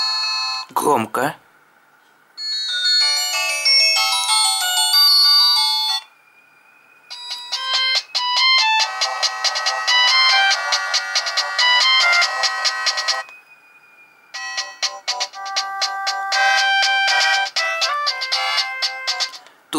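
Bursts of tinny polyphonic MIDI ringtone melodies play loud through the small speaker of a Philips E106 feature phone, several different tunes separated by short pauses, with a brief click at the start.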